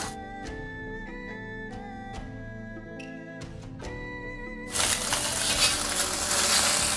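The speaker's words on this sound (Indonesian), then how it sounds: "Lalu panaskan sedikit minyak, goreng telur." Egg frying in a little hot oil in a pan, to be scrambled, with close sizzling and light tonal utensil knocks that swell into a loud, steady crackling sizzle over the last seconds; no one speaks.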